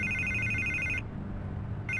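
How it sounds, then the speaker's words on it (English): A telephone rings in the video game Batman The Telltale Series, one long electronic ring, a short pause, then the next ring starting, loud and clear over a low background hum. "I can't get the phone to stop ringing."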